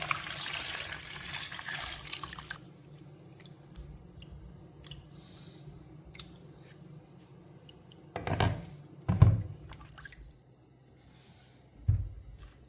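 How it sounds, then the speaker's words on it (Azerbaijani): Beetroot being washed by hand in water in a bowl: an opening rush of running water, then quiet sloshing and squishing, with several louder splashes and swirls as the roots are rubbed and turned. "Su əlavə edib yaxşıca yuyuram."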